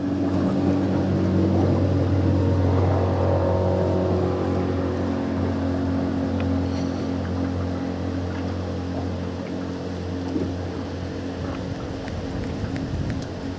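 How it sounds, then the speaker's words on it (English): Strong cold wind buffets the microphone outdoors in March, a steady loud low roar that fades slightly over time, with a faint engine-like hum beneath it. "That wind blow right through you."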